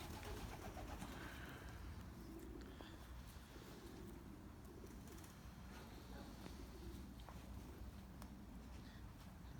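Pigeons coo softly and steadily inside a pigeon loft in Belgium in December, a low continuous murmur of many birds with a faint voice now and then.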